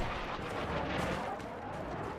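Grenade blast in a video game, a dense rumbling explosion with crackling debris that fills the short moment at moderate loudness, with no clear voice over it.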